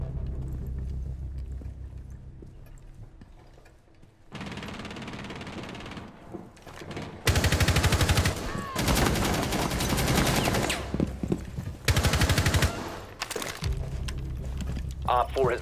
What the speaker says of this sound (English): Bro, everyone's shooting at this guy.